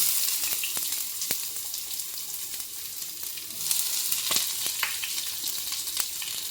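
Steady hiss and crackle of chopped onions frying in hot oil, with occasional sharp pops and a few clinks of a utensil stirring the pan.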